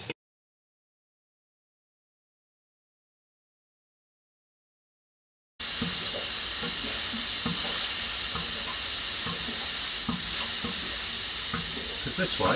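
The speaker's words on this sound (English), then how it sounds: "So realistically, what we need to do is take a bit of air out of this." Air hisses steadily out of a heating system expansion vessel as a plumber releases pressure, a loud continuous rushing spray that starts abruptly after several seconds of silence.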